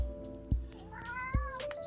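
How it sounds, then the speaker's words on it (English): A cat meows repeatedly in the background, two or three rising, drawn-out calls at moderate distance, with a couple of low thumps in between. "My cat's meowing in the background"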